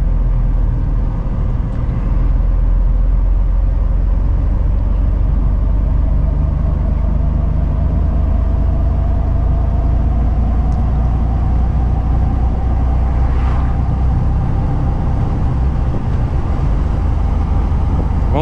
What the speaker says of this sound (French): Voir tous les camions qui passent là tous les jours là devant chez eux.